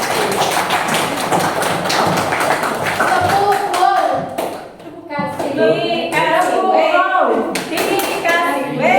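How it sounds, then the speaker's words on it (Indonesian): An audience at a school teachers' gathering claps in a dense burst of applause that fades as a voice starts speaking over it. "sekali lagi kita aplaus untuk Ibu Arisa Irti"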